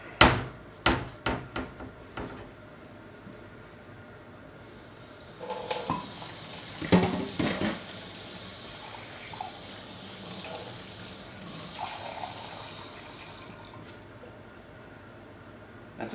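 Warm water runs from a kitchen tap into a measuring cup while baking soft pretzels, a steady splashing stream after several sharp knocks and clatters at the start, with louder bursts of flow midway, close and alone.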